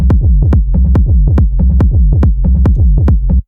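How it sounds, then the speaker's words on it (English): Hypnotic techno groove bass line made in Ableton: a punchy, rhythmic pattern of deep bass hits with sharp clicky transients, looping steadily and loud for a few seconds before stopping abruptly. "that's how we make like the groove aspect of my bass line, which sounds like this"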